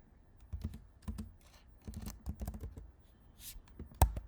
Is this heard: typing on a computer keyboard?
yes